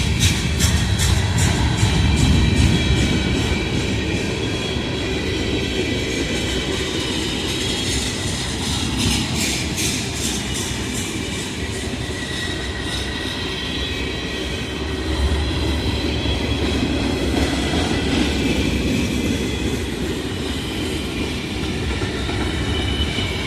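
A long manifest freight train rolls past nearby, a continuous rumble with rhythmic clickety-clack from the wheels and occasional squeals, sustained at a fairly even loudness throughout.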